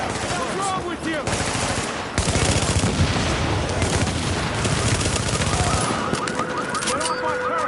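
Dense video game gunfire, with sustained rapid machine-gun bursts and overlapping shots running loud and continuous throughout, thickening into a heavier barrage midway.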